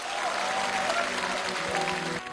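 An audience at a televised military talent competition final applauds, a dense, steady wash of clapping that holds loud for the whole stretch before easing slightly at the end.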